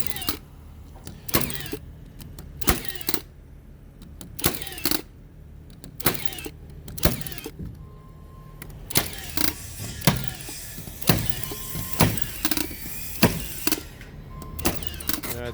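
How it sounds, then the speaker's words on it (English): A Milwaukee battery-powered framing nailer malfunctioning on a job site, irregular sharp mechanical snaps and clacks spaced every second or so, with motor whirring between them, close by. "I'll throw in a video here of when this nailer messed up on the job, and you'll see what it sounds like."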